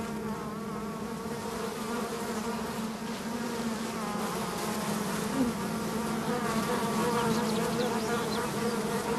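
Asiatic black bear's shattered bee nest on a forested mountain slope, with bees buzzing in a dense, continuous swarm hum held steady and fairly loud throughout.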